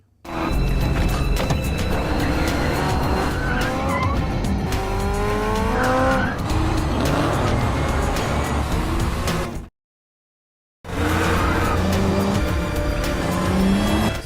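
Race cars in a street-racing film accelerate hard and overtake, engines roaring loud and close with repeated tire squeals and skids, interrupted by about a second of silence before the racing noise resumes.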